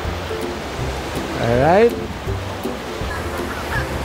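Ocean waves wash onto Boracay beach, a steady broad surf hiss with a surge of a breaking wave, while a person speaks a short word and voices of family playing in the water drift nearby.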